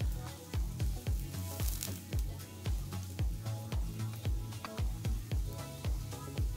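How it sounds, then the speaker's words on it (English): Chopped onion frying in vegetable oil in a pan, a steady close sizzle broken by regular knocks of a spoon stirring through it. "Now I just want to cook the onion down without colouring it too much."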